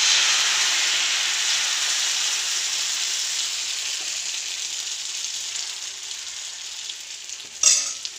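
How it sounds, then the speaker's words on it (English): Dosa batter sizzles loudly on a hot pan greased with coconut oil, a steady bright frying hiss that slowly fades, with a brief clatter near the end. "grease the pan with the coconut oil. Okay, take a dosa batter,"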